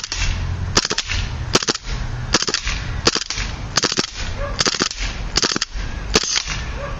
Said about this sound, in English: All right, 3-round burst.